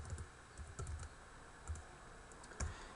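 Fingers typing on a computer keyboard, a faint run of quick uneven key clicks in short bursts with pauses between them.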